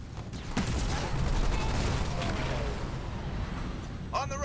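Gunfire from ground troops in Halo Wars 2, a dense rattling fusillade of rapid shots and battle noise rolling continuously, with radio voices talking briefly over the din near the end.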